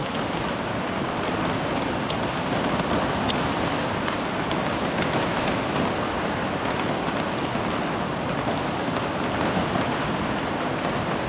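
Heavy rain pours down outdoors near a river crossing, a dense, steady roar of drops that stays loud and unbroken throughout.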